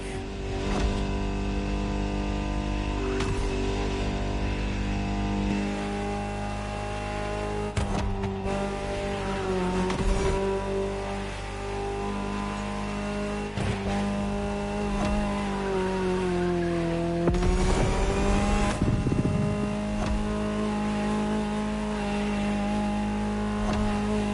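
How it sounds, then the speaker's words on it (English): A powerful Ferrari supercar engine in a racing video game drones and revs steadily, its pitch climbing and dipping as it accelerates and shifts, loud and close with occasional tire noise. "Just listen to the car you're driving."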